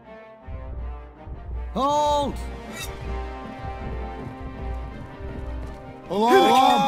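Horses gallop in a medieval video game set in 1428 Silesia, with rhythmic hoofbeats thudding steadily at mid distance and sharp whinnies breaking in near the middle and end, while voices speak over them.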